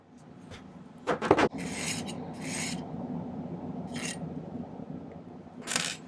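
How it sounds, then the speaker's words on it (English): A hand file rasps against a small silver piece being shaped for a kite pendant. A few short, separate strokes scrape close by over a quiet background hum, with a quick cluster of strokes early on. "leave a little extra for filing down"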